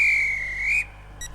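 A guard's whistle is blown in the Roblox train game SCR, one loud sustained shrill blast lasting nearly a second, followed by a faint short electronic chime.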